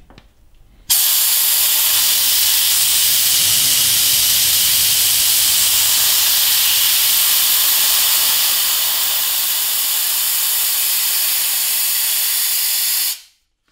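A Bauer Junior II diving and PCP air compressor releasing its condensate drain as one loud, continuous hiss that starts abruptly, holds steady for about twelve seconds, then cuts off sharply, with no voices.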